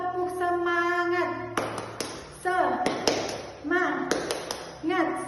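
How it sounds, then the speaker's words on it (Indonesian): Children join in a rhythmic classroom spirit-clapping chant, with short bursts of sharp claps between sung or chanted voices that come back in a repeating pattern. "Kita lakukan gerak atau melakukan tepuk semangat lagi."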